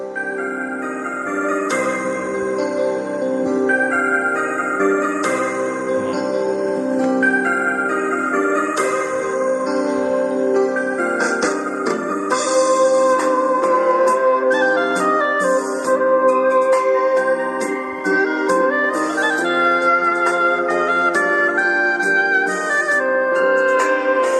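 A song with vocals and instruments plays continuously at moderate volume from a small 5-watt KTS 1043A bluetooth speaker, slightly thin and boxy, no talking over it.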